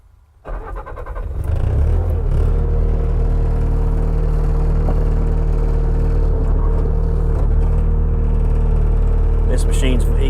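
A 2016 Bobcat T590 skid steer loader's diesel engine cranks and catches, then settles into a loud, steady close-up rumble with a constant whine, and a few clanks near the end.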